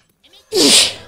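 A single loud, close human sneeze bursts out alone after a brief quiet breath, during a French-language Hearthstone game commentary.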